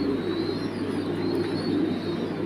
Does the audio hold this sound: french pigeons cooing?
yes